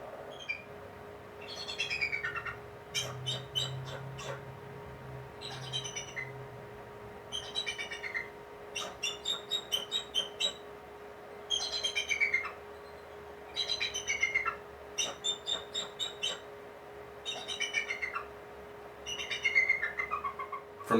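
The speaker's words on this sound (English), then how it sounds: "Bye for now, Bald Eagles." Bald eagles calling from their nest on a live camera, repeated bursts of high, rapid chattering calls separated by short pauses, with a faint steady hum in the background.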